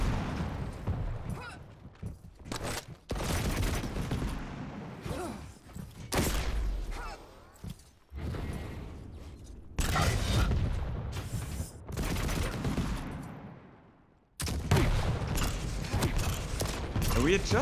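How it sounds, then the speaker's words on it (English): Rocket detonations and gunfire during a competitive video game duel, loud booming blasts arriving in irregular clusters with short quiet gaps, and a commentator talking over much of the action. "We are just hearing the detonations of rocket Tribolt"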